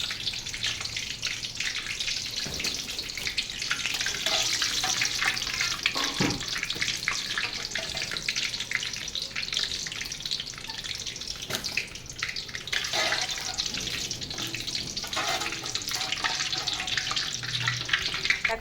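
Pitha cakes frying in oil in a pan make a continuous bright sizzle and bubbling hiss, steady and close for the whole stretch, with faint background clatter and no talking.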